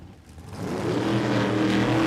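An altered drag race car at Willowbank Raceway in Queensland runs with engine issues, its rough rumble swelling from near-quiet into a loud, steady drone.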